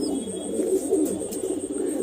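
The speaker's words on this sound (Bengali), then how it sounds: "মাদি পায়রাটা লাম্বাডি আছে" A newly paired Lambati hen pigeon and Andhra cock pigeon in a loft coo softly and continuously, a low, close, steady burbling with no voices.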